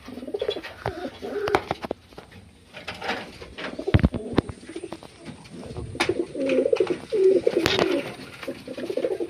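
Pigeons kept as pets, including lakka pigeons, cooing in low, throaty bursts at close range, with a few scattered thumps and rustles in between and no talking.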